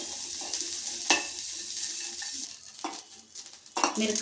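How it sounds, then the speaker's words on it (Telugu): Green chillies fry in a pan with a moderate crackling sizzle, broken by several scraping stirs of a spatula and an occasional metallic tap. "మిరపకాయలను దూరగా వేయించుకోవాలి"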